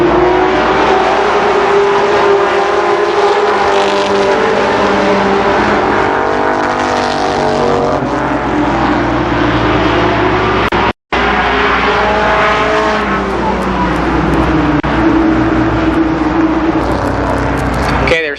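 Race cars roar around the oval at Columbus Motor Speedway during the 1992 Memorial Day Classic, engines droning loudly and continuously with shifting pitch as the pack circles, under a public-address announcer calling the race.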